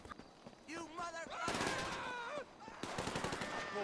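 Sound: gunfire in the video game GTA V Online

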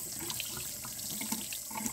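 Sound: rinsing fabric under warm tap water in a sink

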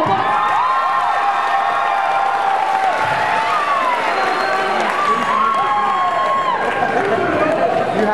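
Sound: audience applause at a school assembly

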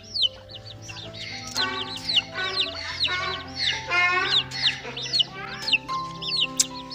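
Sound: chickens clucking

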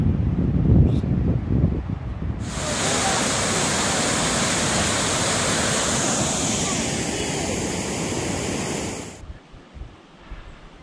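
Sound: water running through rocks, mountain springs

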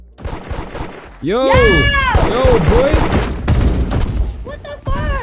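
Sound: gunfire in a video game

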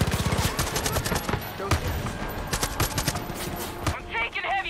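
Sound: gunfire in the video game Far Cry 5

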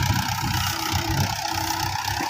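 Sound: Mahindra 575 tractor engine running with rotavator

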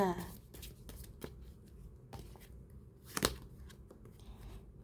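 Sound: tarot cards being shuffled and drawn

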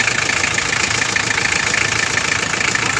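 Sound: car engine running after timing belt replacement

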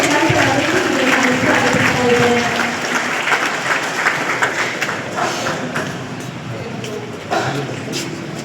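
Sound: audience applause at a peace meeting

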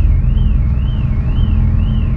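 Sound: car alarm going off

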